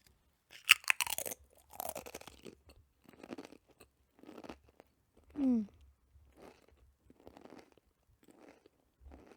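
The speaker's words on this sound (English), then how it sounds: "Apologize if you hear the sound of crunchy food" Several sharp, close crunches of someone chewing Pringles chips in a quiet room, spaced irregularly, with one brief low gurgle.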